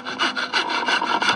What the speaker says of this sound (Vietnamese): Thì cái cưa đó để cưa cái tấm gỗ ở đây.